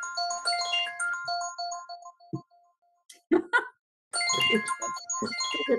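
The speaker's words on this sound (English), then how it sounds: "It's her phone, or your phone, Chris." A phone ringtone plays a bright, repeating melodic chime during a committee meeting, ringing in two bursts separated by a pause, with voices talking faintly around it.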